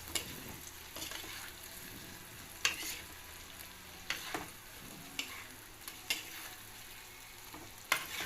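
Garlic and onion stirred in a frying pan for a creamy chicken mushroom dish, a soft continuous sizzle broken by repeated spoon scrapes and taps against the pan at a slow, uneven rhythm, with no talk.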